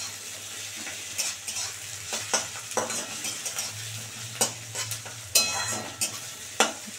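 Grated ginger fries in a pan for a dal and spinach dish, with close, steady sizzling broken by repeated scraping and clinking strokes of a spoon stirring against the metal.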